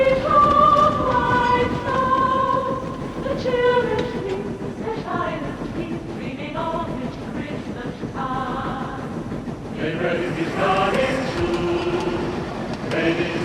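Model steam train chuffing along a branch line, a steady rolling rumble with clattering wheels and faint whistle-like tones, carrying on under talking voices and festive background music.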